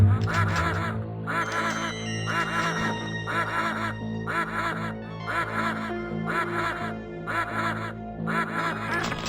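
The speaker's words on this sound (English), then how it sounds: "These bewildering ducks alert enemies nearby when they explode." Exploding ducks in the FMV shooter game Killing Time, quacking loudly and rhythmically in a steady string of honking calls over a low game background.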